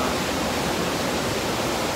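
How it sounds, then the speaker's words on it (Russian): A waterfall in a gorge sends a steady, dense rush of falling water that fills the whole moment, a constant broadband roar with no pauses. "будет меня слышно или нет из-за водопада"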